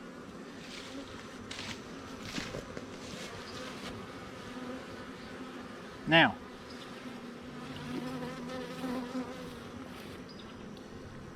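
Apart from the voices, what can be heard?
bees buzzing in hive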